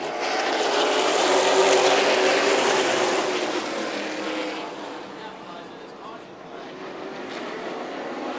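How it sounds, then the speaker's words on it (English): A pack of race cars in a CARS Tour West race at Stockton 99 Speedway accelerating back to green on a restart, a loud, dense roar that swells, then eases and lingers as a distant drone. "We go back to green here for the restart."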